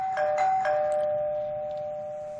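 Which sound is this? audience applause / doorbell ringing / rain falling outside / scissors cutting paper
doorbell ringing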